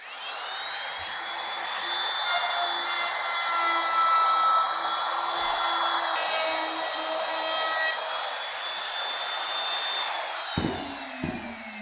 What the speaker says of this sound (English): We're gonna go ahead and route these corners out just to make it a little easier on the hand.